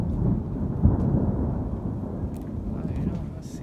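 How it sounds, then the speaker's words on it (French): Thunder from a morning electrical storm over Chamalières rolls as a long, deep rumble that swells and slowly fades, with faint rain and a few brief higher noises near the end. "Un deuxième orage électrique de la matinée"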